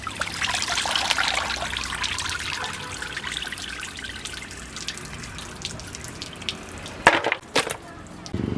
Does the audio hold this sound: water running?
yes